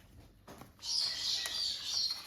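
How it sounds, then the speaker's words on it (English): A pet bird in its cage lets out a loud, shrill screeching call that starts abruptly after a quiet moment and holds for over a second, close by, with no talk over it. "The bird decided to scream at something."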